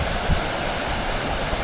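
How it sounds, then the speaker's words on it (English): The River Wharf babbles over stones in the Yorkshire Dales near the village of Hubberholme, a steady, full rush of flowing water close by with no voices. "So I'll leave you with the babbling River Wharf."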